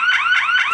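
A Retekess TH103 motion sensor security alarm sounds a rapid, loud, rising electronic beep repeated about three times in quick succession, close and with no voices.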